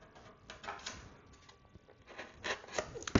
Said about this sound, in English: I'm going to put my X-Acto knife in there, and I'm just going to go up and side to side